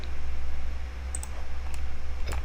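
Computer mouse clicks in CAD software sound as a few light, sharp ticks, a pair close together, then single ones, over a steady low electrical hum.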